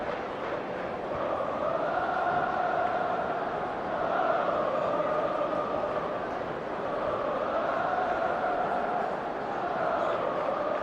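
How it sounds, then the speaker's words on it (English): Celtic football crowd at a match against Livingston chanting a player's name, a broad, steady roar of massed voices with a rising and falling sung melody, continuous and fairly distant. "I think the Celtic crowd are beginning to chant Leuven's name."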